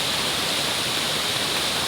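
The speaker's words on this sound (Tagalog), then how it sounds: "Kaya sobrang lakas ng tubig doon sa baba." Fast floodwater pouring over a ravine drop roars as a dense, continuous broadband rush, loud and steady with no breaks and no voices.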